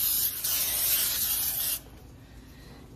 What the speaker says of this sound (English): we'll spray our baking dish. I like to use this flour spray.